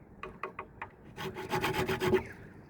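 A file rasping in the nut slot of a cheap ukulele, close and dry: four short separate strokes, then a faster run of quicker, louder strokes, with no talking.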